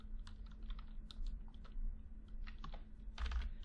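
Computer keyboard keys clatter in a quick, uneven run while HTML code is typed, with close, moderately quiet clicks over a faint steady hum.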